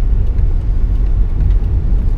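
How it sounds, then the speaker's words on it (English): A 2016 Subaru Impreza sedan with a boxer engine takes a turn at speed, giving a steady, loud low rumble of engine and road noise that holds throughout without any talking. "I'm going to take a turn here with a little bit of speed"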